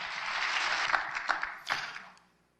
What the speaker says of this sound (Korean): 박수 한번 합시다